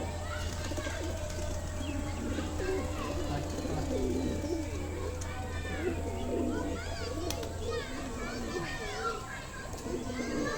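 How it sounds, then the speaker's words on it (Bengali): Pigeons coo on a rooftop amid chirps and children playing nearby, a steady murmur of calls under a person talking, with a low hum for the first part. "ওই জন্য ভাবলাম পায়রাগুলো ছাড়িয়ে সেই ওপরে 6টা বাচ্চা নতুন ছেড়েছি"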